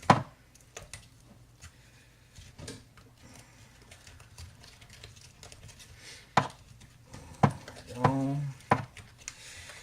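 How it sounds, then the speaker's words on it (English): Canned sauce being stirred into potatoes in a crockpot with a spoon, heard as scattered knocks and taps of the spoon against the pot and a short wet scraping burst near the end, with quiet background noise between. "empty the can, and then pick up my spoon and then just stir it in"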